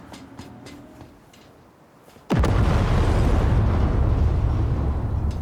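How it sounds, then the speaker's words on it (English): A burning car blows up in the Cyberpunk 2077 video game with a sudden loud blast that turns into a sustained, roaring rumble of fire and debris after a stretch of quieter ambient sound. "She's burning! Quick, before she blows!"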